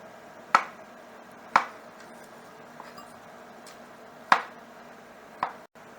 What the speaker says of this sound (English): we have some baby bella mushrooms that I've already rinsed and washed off. We're going to be cutting these.